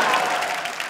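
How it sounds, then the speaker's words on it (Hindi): A studio audience at the KBC India quiz show claps in dense, sustained applause, bright and crackling, filling the entire short moment without any gaps. "एक तो इतनी तालियां बज रही थी।"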